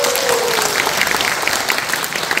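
Audience clapping at a Korean traditional dance company's first regular performance, a full hall applauding in a dense, continuous burst with a few louder individual claps standing out near the front.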